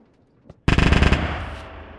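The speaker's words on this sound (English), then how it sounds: "The gun finally works, bro." A machine gun in the Minecraft Create mod fires a fast, loud burst of about ten evenly spaced shots, then a trailing mechanical rumble fades out, after a short quiet click.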